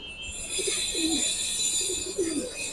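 Old-breed Giribaz pigeons at a pigeon fair give a few low rolling coos, two clear phrases over a steady hiss and distant murmur.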